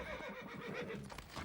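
A horse pulling a carriage whinnies in a short, quavering neigh that rises and wavers, faint and somewhat distant over a steady background.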